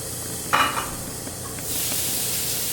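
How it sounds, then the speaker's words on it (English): Portabello mushrooms sizzling in a hot pan, a soft steady hiss up close with a brief brighter burst early on, rising to a fuller, louder sizzle toward the end. "Let's check on those mushrooms. I hear them sizzling over here."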